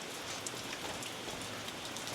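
Rain falling outdoors in Colombia, a soft, steady patter of drops on surfaces heard at a distance, fairly faint and even throughout, with no talking.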